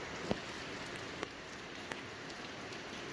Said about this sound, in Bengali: কি মুষলধারে বৃষ্টি শুরু হয়েছে